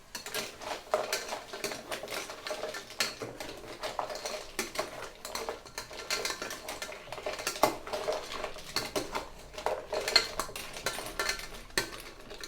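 Mussels with salt are stirred in a metal pot, giving a continuous clatter of shells and a utensil scraping against the pan, steady and close.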